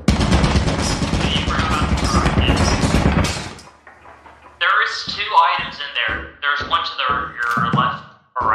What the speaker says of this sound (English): Oh, that's a turret! That's a turret!